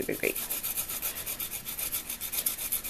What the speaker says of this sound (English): Now we're going to grate the ginger in.